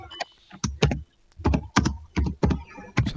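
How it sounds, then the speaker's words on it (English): Someone types on a computer keyboard nearby, with irregular bursts of clicking keystrokes separated by short pauses. "someone is typing."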